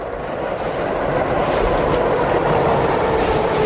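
A metro train on an underground line rolls into the station with a loud, steady rumble and a broad roar of wheels on rails, close by and constant throughout.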